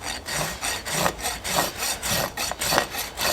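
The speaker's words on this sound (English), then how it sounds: "The rasp with that, at the same angle going all the way around." A metal rasp files a horse's hoof during barefoot trimming, rhythmic back-and-forth scraping strokes, about two per second, close and loud with no talking.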